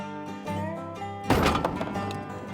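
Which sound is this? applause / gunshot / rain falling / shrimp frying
gunshot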